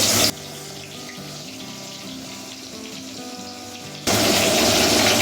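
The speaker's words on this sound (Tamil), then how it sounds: "நம்ம ஏற்கனவே மசாலா தடவி வச்சுருக்கிற மீனை இதோடு சேர்த்துக்கலாம்." Masala-coated fish frying in hot oil in a kadai, a loud steady sizzle at the start and end with a quieter, softer crackle in between.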